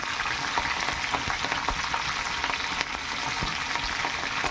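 Fresh curry leaves with small stems hit hot oil in a pan as tempering for a tamarind-leaf dal, a loud, continuous sizzle with crackling pops scattered throughout.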